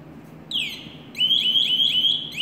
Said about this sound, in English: I'm letting my pass alarm go through the automatic